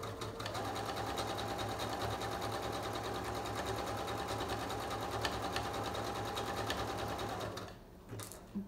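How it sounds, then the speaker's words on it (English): A sewing machine stitches along the edge of a taco-shaped pillow, running steadily and close up with a fast, even mechanical whir for about eight seconds before slowing and stopping. "And again, I'm sewing on the edge."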